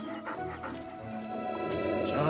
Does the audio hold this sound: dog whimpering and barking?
yes